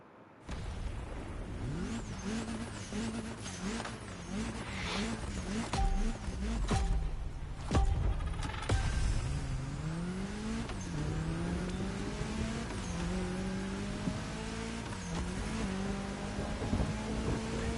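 A car in a racing video game drives hard, its engine rising and falling in pitch through repeated gear changes and revs, steady and close with a brief roar in the middle.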